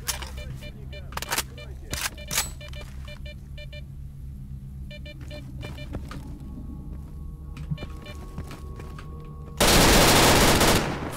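Rapid automatic gunfire bursts from a weapon in STALKER: Call of Pripyat, sharp and repeated through the clip amid game beeps and ambience, ending in a loud sustained roar of noise.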